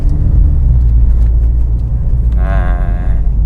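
A car on air suspension makes a loud, steady low rumble from inside the cabin as it cruises on a fairly smooth road during a test run, with a faint wavering tone near the end.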